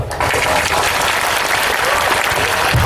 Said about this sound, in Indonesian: Tepuk tangan enggak apa-apa.